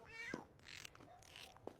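A small kitten gives a couple of thin, high meows close by, separated by brief pauses, fairly quiet with no talking.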